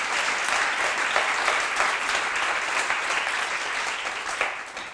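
A crowd at a pitch night event gives a warm round of applause, dense clapping at an even level throughout with a few louder claps scattered in.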